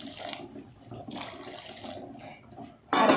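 Hot water saved from cooking chickpeas is poured into a pan of masala, giving a short, close splashing and gushing that swells sharply at the end, with no talking.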